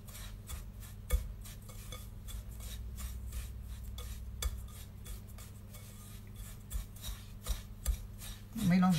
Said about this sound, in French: On mélange bien l'huile avec le couscous